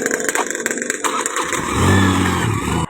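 A motorcycle engine catches and starts amid clattering, then settles into a louder rough idle and rev burst that holds for about a second before cutting off abruptly.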